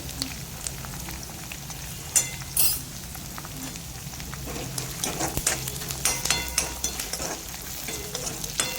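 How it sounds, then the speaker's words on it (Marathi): Peanuts, cumin, mustard seeds and turmeric frying in hot oil in a home kitchen: a steady close sizzle with frequent sharp pops and crackles as seeds burst, plus occasional clinks of a spoon stirring the pan. "शेंगदाणे उडतंय. थोडं जिरं, थोडीशी मोहरी"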